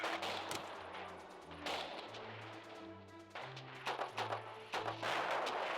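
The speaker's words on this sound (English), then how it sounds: "Those damned anti-tank guns." Anti-tank guns fire in the strategy game Radio General, several sharp booming shots spaced a second or so apart over a steady tonal musical background.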